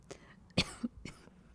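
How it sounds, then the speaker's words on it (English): Three quiet coughs come in quick succession with a throaty catch between them, faint and nearby. "having a little bit of a coughing attack"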